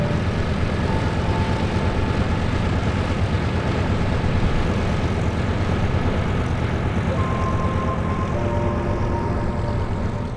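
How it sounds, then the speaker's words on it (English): A Hawker Hurricane with a 1460 horsepower V12 Merlin engine and a three-blade Rotol propeller drones steadily and loudly through an airshow flyby, a continuous broad engine roar with no talking. "Hurricanes are powered by a 1460 horsepower V12 Merlin engine."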